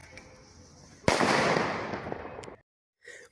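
A gunpowder firecracker goes off close by with a sudden sharp burst into a loud, hissing crackle that lasts about a second and a half, then cuts to silence before a short faint sound.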